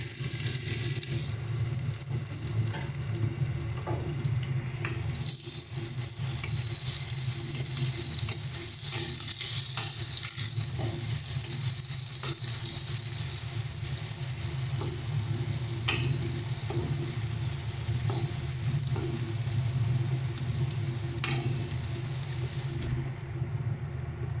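Chopped onion sizzles in a wok of oil left over from frying eggplant, with cumin seeds added first. A steady, close, loud frying hiss runs throughout with faint stirring scrapes and no talking.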